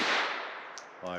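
A Beretta Model 20 pistol fires a .25 ACP shot: one sharp, loud crack that decays quickly, with a faint click and a brief voice at the end.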